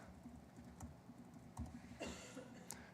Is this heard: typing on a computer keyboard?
yes